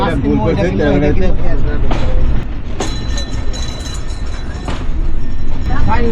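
A Bangladeshi passenger train on the Pakshi–Khulna line runs loud and steady just after leaving Chuadanga station toward Darshana, with a continuous rumble, rattling carriages and occasional clanks, and a voice talking over it.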